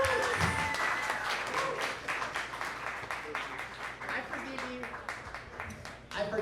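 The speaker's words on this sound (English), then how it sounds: "please give the warmest applause for Brian Malow" A comedy show crowd at The Milk Parlor applauds comedian Brian Malow, with a full, crackling wave of clapping that holds steady and slowly thins as he takes the stage.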